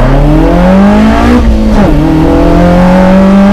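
A Toyota AE86 Corolla with individual throttle bodies and Tomei 272 cams accelerates hard, its engine note climbing loud and close through the revs with a brief dip at a gear change before rising again.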